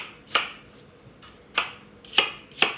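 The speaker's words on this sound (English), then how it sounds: "And right now we are chopping up our 3 apples." A knife chops apples for fritters with four sharp, close strikes, irregularly spaced, each a crisp crack with no talking.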